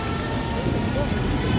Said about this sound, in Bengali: এই তো ভালোই জোরে বৃষ্টি পড়ছে